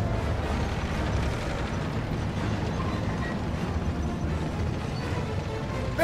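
A tank cannon shot strikes its target in the World War II video game Call of Duty WW2, heard as a dense, sustained low rumble of explosion and battle noise that stays loud through the whole stretch without a clear single crack.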